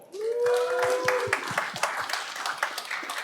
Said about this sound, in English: So a huge round of applause for Teachable.